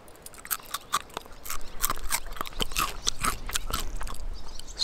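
Charcoal-grilled greenling fish scraps being eaten, with crisp, close-up crunching bites and chewing in a quick irregular rhythm over a few seconds, no talk.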